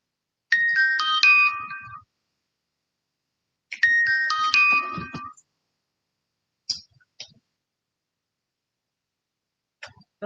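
A phone plays a text-notification ringtone, two bright chiming melodic bursts about three seconds apart, then a few short faint clicks or blips, in an otherwise silent room.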